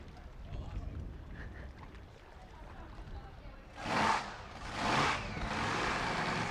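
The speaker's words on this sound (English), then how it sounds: "They're 15 horsepower engines." Junior Formula Future racing boats with 15 horsepower engines at a lake race: a low, faint engine drone builds into two quick loud roaring surges as boats pass close, then settles into a steady hum.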